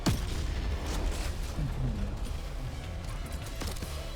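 Sniper mech firing in the Mecharashi video game, heard as booming shots over a dense, continuous wash of game music and effects, with a faint voice beneath.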